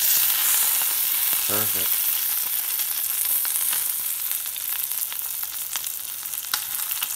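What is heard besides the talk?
brook trout frying in a pan with lemon pepper seasoning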